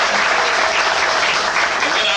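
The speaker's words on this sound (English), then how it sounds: "Give this brother a round of applause." A room full of people gives a speaker a round of applause at a lecture event, thick, unbroken clapping at close range, loud and even, with no pauses.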